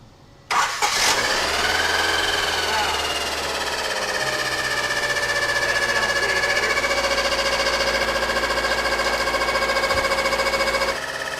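A car engine starts and settles into a steady, rough-running idle with a continuous droning hum and a faint rubbing undertone.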